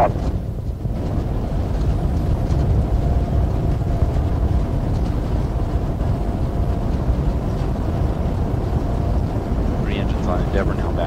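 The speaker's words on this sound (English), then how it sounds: "Three engines on Endeavour now back at full throttle" Space Shuttle Endeavour's three main engines at full throttle during launch, a loud, continuous, rumbling roar that holds steady throughout.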